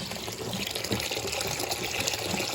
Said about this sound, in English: So I'm flushing out the water to this drain here.